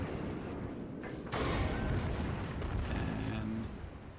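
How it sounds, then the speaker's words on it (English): Cruiser main guns firing in World of Warships, a dull booming burst over constant battle rumble, followed by a lingering rolling echo; a voice talks quietly underneath. "And I'm firing at him again."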